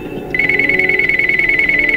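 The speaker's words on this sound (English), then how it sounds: "And the phone rings," A telephone starts ringing after a brief quiet moment, a loud, steady electronic trill that keeps pulsing in an even rhythm close by.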